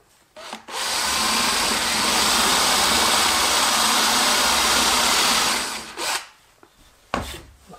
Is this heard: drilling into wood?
yes